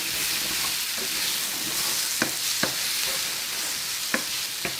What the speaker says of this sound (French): on sent les oignons qui caramélisent